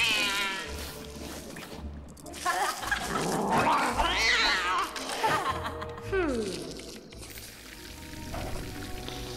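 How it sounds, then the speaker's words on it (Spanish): Cartoonish cat meows and yowls ring out in the Lego Harry Potter video game, several wavering cries layered with music and effects while a voice talks over them. "Pero Hermione es un gato"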